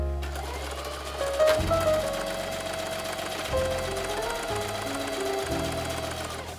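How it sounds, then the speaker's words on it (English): Sewing machine stitching on a piece of scrap fabric, close and clear: bursts of rapid mechanical needle chatter that start, pause and restart several times, with a faint whirring motor and no talk. "So I recommend stitching on a piece of scrap fabric a little bit just to get the hang of sewing and get used to the feeling of your machine."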